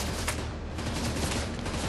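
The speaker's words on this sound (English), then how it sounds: "Where are we getting shot from?" A brief, dense burst of rapid gunfire from The Division 2 at the SHD Autumn Hotel, shots tightly packed and loud for two seconds without talk.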